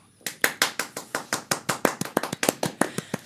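Hands clap in a sharp, fairly regular rhythm, about sixteen distinct claps that start after a short silence and continue to the end. They are close and crisp, welcoming a guest on a music talk show.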